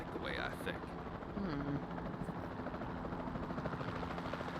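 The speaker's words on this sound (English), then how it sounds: "Then the sensible thing is to take a capture team helicopter." Capture team helicopter in Jurassic World Evolution 2, a steady rotor drone running throughout at low level, with a brief tonal game sound early on and no speech.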